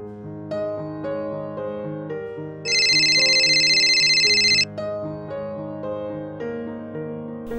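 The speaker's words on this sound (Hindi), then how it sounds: "मनु भैया का फोन" A mobile phone ringtone plays loud and close for an incoming call, a repeating melodic tune with a brighter chiming burst in the middle, alone without talk.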